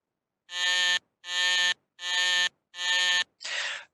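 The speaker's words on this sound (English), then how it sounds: "He does very well as Clara sounds the buzzer to guide his every step." Five loud electronic buzzes sound in even succession, each about half a second long, the last one rougher and slightly quieter.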